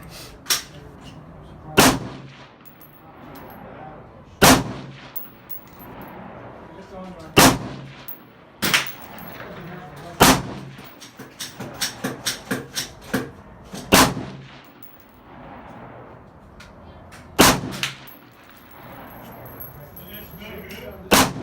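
Sharp gunshots ring out at an outdoor gun range in Apple Valley, single reports spaced irregularly with a quick rapid burst midway, loud and close, with faint talk and range noise between shots.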